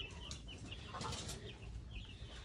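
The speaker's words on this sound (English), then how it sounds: "I just added a little rooster in here last night" White Leghorn hens and a young cockerel cluck and murmur in a coop, soft scattered calls with a brief flurry near the middle over a quiet background, no talking.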